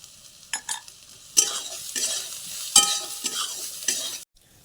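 Eggplant pieces stirred in hot oil with cumin seeds, crushed garlic, green chillies, salt and turmeric, giving a steady close sizzle broken by several sharp scrapes and knocks of the spoon against the pan before it stops abruptly.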